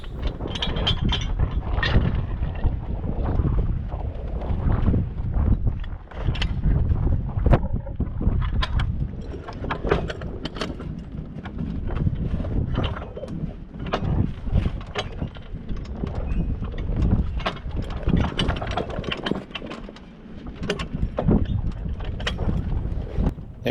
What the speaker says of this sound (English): It was another chilly day today and quite windy